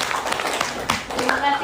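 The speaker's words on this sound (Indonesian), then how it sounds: "kita tepuk tangan untuk kita semua" Classroom students clapping hands together in a junior high lesson, a short burst of scattered, moderately loud claps mixed with voices.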